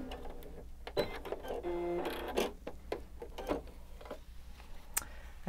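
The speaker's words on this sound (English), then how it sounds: "I've put my 1/4 inch foot onto my sewing machine, and I've knocked that stitch down to a 2 for the length." Sewing machine with a quarter-inch foot and a short stitch length stitching a fabric strip onto a crazy quilt block, heard as close, steady mechanical whirring in bursts with clicks and small knocks, and no talking.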